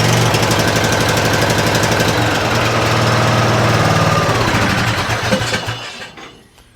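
A Craftsman riding mower's small engine, freshly swapped and fitted with a replacement carburetor, runs loud and steady with a dense mechanical rattle, then cuts out and fades near the end.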